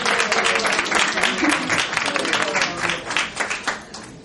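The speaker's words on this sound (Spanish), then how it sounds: "Por favor, un aplauso a Vittorio Grigolo." Crowd at a fashion gala press conference applauds tenor Vittorio Grigolo, brisk dense clapping from many hands that swells and then tapers off over a few seconds.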